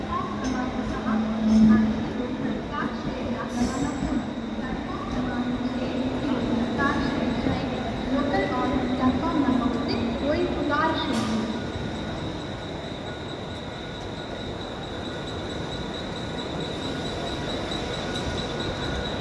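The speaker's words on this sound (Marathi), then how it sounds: "ट्रेन चालली आता आपल्या जवळून" A Mumbai local train rumbles past close by at Dadar station, with wheels squealing and rattling over the rails amid station bustle and distant voices.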